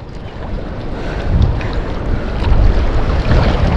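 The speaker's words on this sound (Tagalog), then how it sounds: "Malakas ang hangin." Steady strong wind roars and buffets the microphone, with a low rumbling gust that swells louder toward the end.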